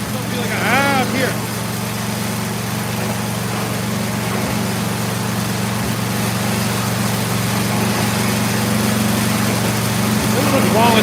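A snowblower engine with a fault idles too low, a steady droning hum with faint periodic knocks running the whole time while someone talks over it.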